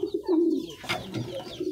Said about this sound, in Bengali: লক্ষা কবুতরগুলো এটার সাথে এটা ডাকাডাকি করে